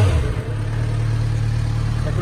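A Yamaha XJ motorcycle fitted with its original exhaust runs with a steady low engine rumble, loud and close, a brief throttle blip at the start, with a voice speaking over it.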